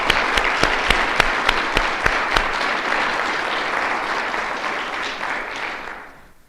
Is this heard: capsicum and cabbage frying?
no